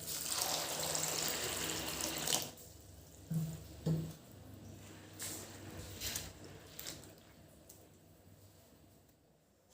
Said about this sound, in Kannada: ಇದನ್ನು ತೊಳಿಬೇಕೀಗ ನೀರು ಹಾಕಿ ಇದನ್ನು ತೊಳೆದಿಟ್ಕೊಳ್ತೀನಿ